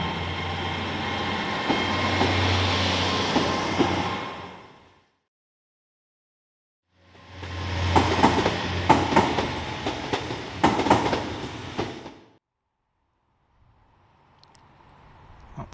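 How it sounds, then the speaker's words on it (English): A train pulls away from Worcester Shrub Hill station toward Great Malvern, rumbling loudly for several seconds, falling silent, then returning with a clattering, screeching passage of wagons before fading to a faint tail. "Train now making its way, of course, to Great Malvern, one of my favourite stations around."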